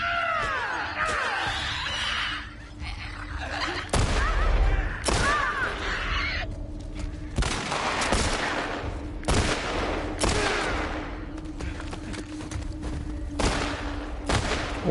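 Gunfire in The Last of Us Part II, with loud bursts and single shots cutting through dense game noise and music, mixed with shouting and cries over about fifteen seconds.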